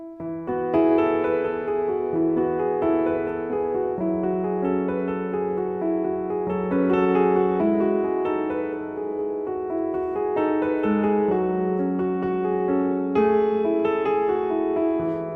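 Chords played on a piano in a slow, steady progression, each ringing out clearly before the next, with no talking.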